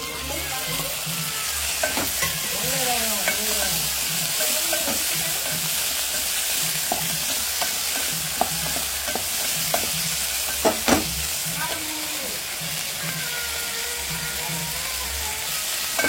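Masala and tomatoes stir-fried in a frying pan: a dense, constant sizzle with repeated scraping and clinking of a spoon against the pan, close up and unbroken by speech.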